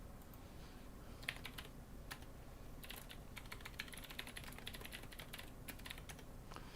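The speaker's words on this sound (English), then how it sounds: "I'll just type it in here." A computer keyboard is typed on steadily, with rapid, quiet key clicks arriving in close runs that are heard alone and nearby.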